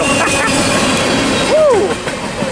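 A freight train hauling coil steel cars rolls past at Commerce Fullerton, a steady close rumble and rattle of wagons throughout, with a brief rising-and-falling squeal partway through.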